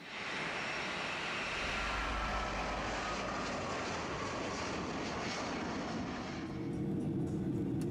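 Passenger airplane engine in flight, a steady broad roar with a low rumble that holds constant for the whole stretch, slightly shifting in tone near the end.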